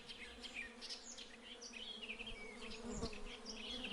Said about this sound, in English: from the top of the tree there came a loud buzzing noise